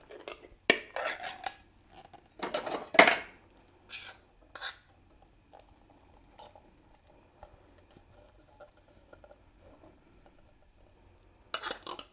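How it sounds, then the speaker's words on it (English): Two cans of corn emptied into a dish, with a few sharp metallic clanks and scrapes up front, then soft pattering and light taps as the kernels settle, ending in another burst of clatter, close and fairly quiet. "Okay, so I'm putting in 2 cans of corn."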